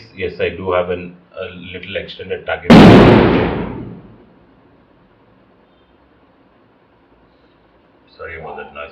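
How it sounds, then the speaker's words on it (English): A single loud firecracker bang bursts outside and rumbles away over a second or so, interrupting someone speaking close up; his talk resumes after a quiet stretch. "Sorry about that noise, somebody is kind of bursting crackers now."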